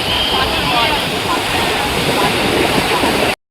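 Sea waves crash onto the beach at Digha at high tide in a loud, continuous, close-up roar of surf and rushing water that cuts off abruptly at the end.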